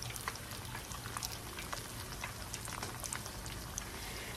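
Shrimp spring rolls deep-frying in hot oil, a quiet continuous sizzle with scattered small pops and crackles, fairly faint and steady, no talk.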